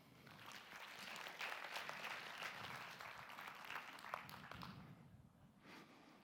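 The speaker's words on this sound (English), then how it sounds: "Please give her an applause" An audience at an AI summit research-track session in Brainport applauds a speaker being welcomed on stage, a steady wash of many hands clapping together that stays fairly even before thinning out near the end.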